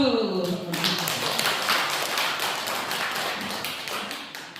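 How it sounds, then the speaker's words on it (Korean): Applause for a participant at a Korean training session, a dense wash of many hands clapping that starts abruptly, stays loud and steady, then tapers slightly toward the end. "연정님께 박수"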